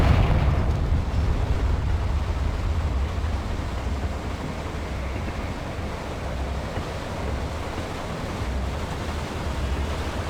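A Confringo fire spell explosion from the Hogwarts Legacy video game erupts in a loud, sustained roaring rumble, like a rolling blast or surging wind, holding steady for the full stretch with no voices.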